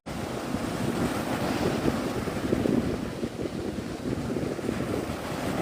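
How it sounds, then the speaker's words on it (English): Ocean waves wash and surge steadily alongside strong wind buffeting the microphone, a continuous broad roar with no voices. "just listening to the waves"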